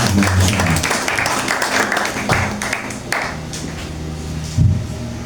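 A church congregation applauds, a dense burst of clapping at moderate volume that keeps on steadily with a few sharper knocks and a louder spike near the end, with no words spoken.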